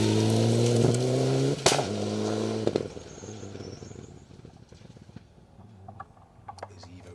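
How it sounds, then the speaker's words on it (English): Mitsubishi Evo rally cars on a Welsh gravel rally stage roar past at close range, a loud droning engine with a sharp exhaust pop in the middle, then the sound fades into a distant rumble with scattered small clicks. "These Evos must all be programmed to just give us a little bit of fire out of the exhaust as they go past us."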